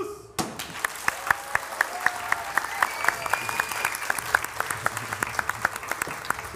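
An audience applauds gladiators at a live combat event, a dense steady patter of many hands clapping near and loud with sharp individual claps standing out, a voice briefly heard over it.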